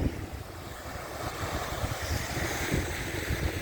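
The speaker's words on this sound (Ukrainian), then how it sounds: "Свіжий вітер." Steady wind rushing and buffeting a microphone outdoors near the sea at Hrybivka, Ukraine, with low rumbling gusts throughout and no voices.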